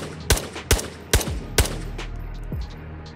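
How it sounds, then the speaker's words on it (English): Four sharp, loud gunshots from a Fennec gun in the game Ghosts of Tabor, spaced roughly half a second apart, followed by a fainter distant shot and a low rumbling tail. "Is that the Fennec shooting me right now?"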